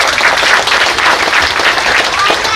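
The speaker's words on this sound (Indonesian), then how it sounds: "ini kita tepuk tangan buat Tuhan ya" A large crowd at a Christmas gathering of local government and community in Mamberamo Raya claps loudly and continuously, a dense, close, sustained roar of applause.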